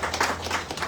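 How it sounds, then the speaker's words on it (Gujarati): Audience applause at a live talk session: a short, dense burst of clapping from a crowd, steady and fairly loud throughout. "આપણે એકવાર જોરદાર તાળી પાડીશું."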